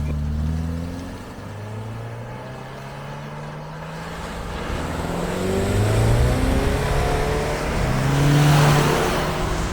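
A Subaru Crosstrek Wilderness with a CVT in Sport mode accelerates hard from a standstill in a 0-60 run, its engine drone climbing and swelling steadily louder, heard from inside the car.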